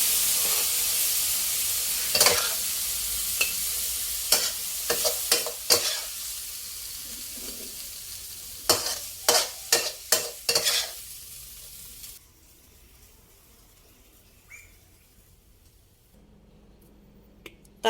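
Long beans and minced pork stir-fried in a pan: a steady sizzle under a series of sharp spatula clacks and scrapes. The clacks come in quick bursts, then the pan quiets to a faint hiss near the end.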